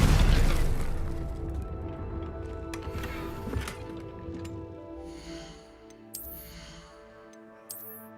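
A Confringo explosion spell in a video game sounds as one loud, booming burst that decays into a long, ringing tail, followed by fainter magical chimes.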